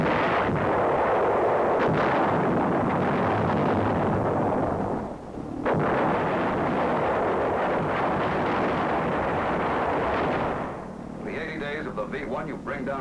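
An anti-aircraft battery on the south coast fires heavy, booming rounds in a dense, rumbling barrage that pauses briefly mid-way, with a narrating voice over the gunfire near the end.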